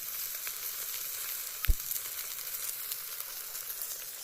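Meat sizzles in a pan over a campfire outdoors, a steady close frying hiss with one brief knock or clatter partway through.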